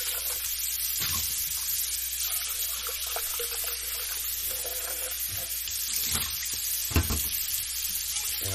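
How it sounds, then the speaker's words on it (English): Wet coffee grounds dumped out of a French press into a sink, heard as a steady running-water wash with a few soft knocks and thuds. "And then I dump out the coffee grounds."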